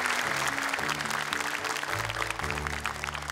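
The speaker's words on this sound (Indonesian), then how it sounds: "tepuk tangan dong buat Hamzah." Audience applause at Hafiz Indonesia 2025, a Quran memorization competition on television, loud continuous clapping for a few seconds over background music.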